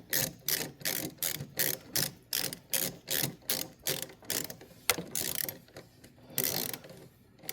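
Steady ratchet clicking in regular strokes as a 10 mm socket on a long extension snugs down high-tensile bolts on a Jaguar XK8 front suspension, close and clear with no voices.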